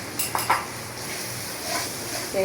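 Spice paste sautéed in a pan, soft scraping and a couple of light utensil clinks over a faint background sizzle, close and quiet, with no talking.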